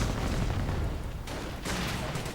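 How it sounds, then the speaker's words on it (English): Flak guns pound away nonstop in a WWII strategy game battle, a dense, loud wall of overlapping bursts and booms with no pause, no voice on top. "the flaks are just blasting away"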